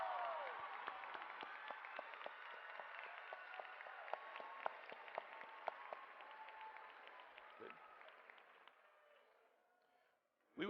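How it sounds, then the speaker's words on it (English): Audience at a 2017 G. W. Carver high school graduation ceremony applauds enlisting graduates; steady, fairly faint clapping from a large crowd with scattered sharper claps, fading out near the end. "Let's give them a round of applause."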